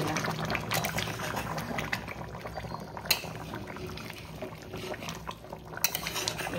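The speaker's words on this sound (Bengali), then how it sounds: "পুরো জলটাই আমি দিয়ে দিলাম" Water is poured into mutton curry in a kadai on the stove, a steady bubbling, sizzling wash of liquid that stays even throughout with a few brief louder splashes, no talk.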